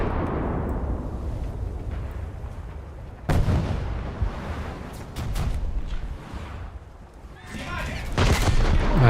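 Naval cannon fire in a warship video game, with Russian cruisers in battle: several heavy booms and cracks punctuate a rumbling din, with voices talking underneath.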